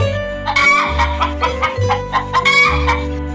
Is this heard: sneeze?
no